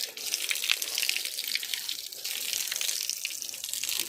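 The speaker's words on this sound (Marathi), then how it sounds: "पाय धुवून जायचं मंदिरात, छान राहते. मी पाय धुते." Water running from a tap at a temple's foot-washing place as feet are washed: a steady, close, hissing stream with small splashes, continuous throughout and alone.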